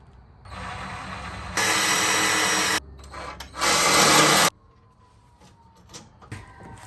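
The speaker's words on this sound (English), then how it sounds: "So let's get these holes drilled." A power drill bores holes for a homemade grass-striper kit on a 2022 Maverick, running in two loud, steady bursts of about a second each, separated by a quieter gap and followed by faint handling sounds.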